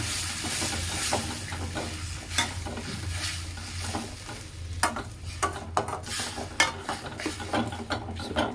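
Onion, tomato, coriander and mint paste fries and sizzles in a pan for a fish curry, a steady close hiss broken by repeated scraping stirs and soft clatters of the spoon.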